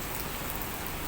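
Rain falling during a typhoon, a loud, even hiss of heavy rain striking surfaces close by, continuous and unbroken with no talking.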